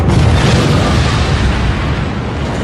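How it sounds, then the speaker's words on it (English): A dramatised atomic bomb explosion over Nagasaki in 1945 rolls out as a loud, sustained deep rumbling roar with no talk. "America is about to drop its second atomic bomb in 3 days."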